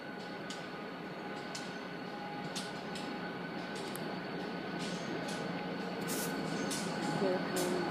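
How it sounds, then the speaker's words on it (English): A train rumbles steadily across a railway bridge, a faint, continuous rolling noise with periodic clicks from the wheels over rail joints, building slightly toward the end. "oh, I think I hear the train coming."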